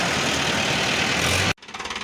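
A tractor engine runs loud and steady close by, a dense rumbling drone, then cuts to a quieter, rhythmic chugging.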